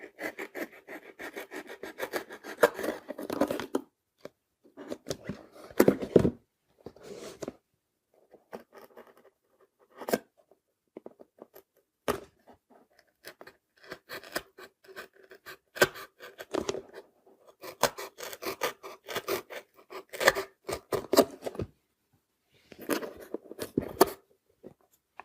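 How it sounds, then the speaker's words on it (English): Scissors or a knife cut and scrape extra cardboard away from a homemade Raspberry Pi case. The close, dry rasping comes in short bursts and irregular rhythmic runs, with near silence between them. "Very carefully, I'm going to remove a little bit of extra cardboard."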